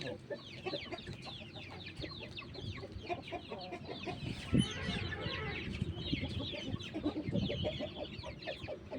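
Many chickens cluck continuously in a farmyard where a brooding hen has laid eight or nine eggs, a dense near chorus of overlapping clucks with one sharp louder call midway and no talk.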